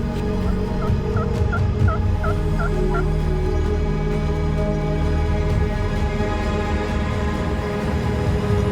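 A wild turkey gobbler in Washington lets out a rapid gobbling rattle, a loud burst early on, over a steady low background rumble that persists to the end.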